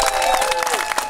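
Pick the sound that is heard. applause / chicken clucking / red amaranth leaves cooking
applause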